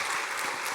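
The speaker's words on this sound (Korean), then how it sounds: "수고하셨다고 우리 박수 한번 할까요?" A church congregation claps briefly during a Sunday service, a dense, even wash of applause heard from amid the crowd.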